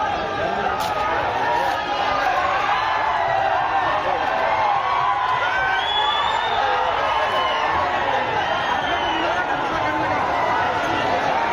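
An angry crowd at a tribal conference rally shouts in a continuous loud roar of many voices, with rising yells and cheering-like whoops layered over dense overlapping chatter.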